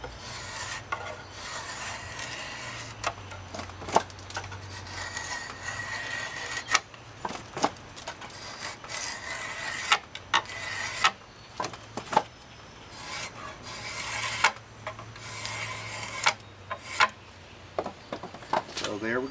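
A drawknife shaving a green wood chair spindle, with repeated rasping strokes against the wood in an irregular rhythm, close and fairly quiet, with some bumps and knocks between strokes.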